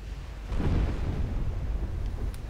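A 14-inch battleship gun shell striking its target in Ultimate Admiral Dreadnoughts, a single deep rumbling boom that swells and rolls on for a couple of seconds, loud and alone.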